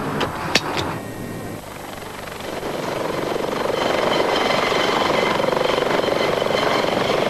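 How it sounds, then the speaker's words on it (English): A helicopter flying from a Glasgow helipad toward the west of Mull produces a steady, loud rotor and engine roar that builds after a brief thump at the start and then holds constant, heard from inside or very close. "It was a half-hour helicopter journey for us to Bannesson in the west of Mull"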